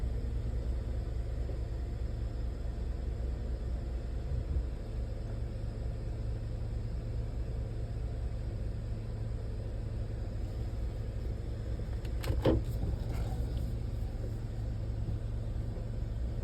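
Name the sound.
2024 GMC Sierra 1500 AT4 truck backing up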